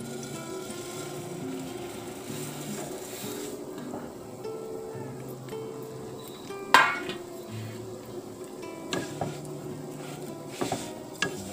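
Vermicelli fries in Dalda ghee in a pan for payesh, a soft low sizzle under stirring, with occasional metal utensil clinks and knocks against the pan, close but fairly quiet.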